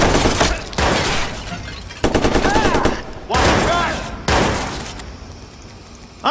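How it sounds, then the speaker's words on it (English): Gunfire in the video game Watch Dogs: loud bursts of rapid automatic shots separated by short pauses, with raised voices of characters shouting over the shooting. "Shot fired! Get shot fired!"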